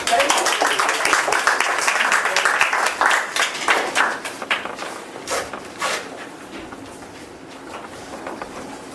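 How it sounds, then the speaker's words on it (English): Meeting audience applauding a newly welcomed guest: a dense wash of many hands clapping, loud at first and thinning out over the clip, with a voice faintly heard near the end. "Give big applause."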